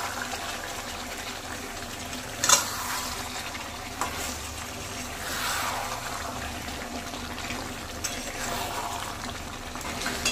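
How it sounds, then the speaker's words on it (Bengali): Chicken frying in a pan while being stirred for Bengali chicken lal jhal, a steady moderate sizzle with occasional clinks and scrapes of stirring, no talk over it. "এভাবে ভালো করে কিন্তু কষতে হবে চিকেনটাকে।"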